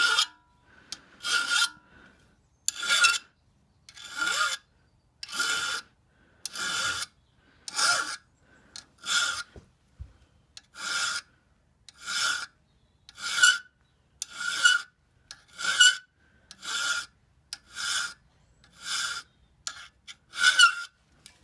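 An ice axe is sharpened with a file in steady rasping strokes, about fifteen short scrapes in a regular rhythm with brief pauses between them, close and fairly quiet, with no talking.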